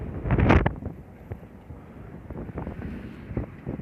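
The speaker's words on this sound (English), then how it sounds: "Oh, it's windy out here," Gusts of wind buffet the microphone in low, rumbling bursts, strongest at the start and then softer, with no talking.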